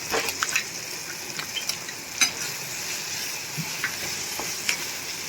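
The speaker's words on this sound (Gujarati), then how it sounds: "કરમદા એકદમ સરસ પોચા થઈ ગયા છે। હવે આપણે એમાં ગોળ એડ કરી દેશું।" Karonda berries frying in oil in a pan as jaggery is added and stirred, a steady close sizzle with scattered scraping clicks of the spoon throughout.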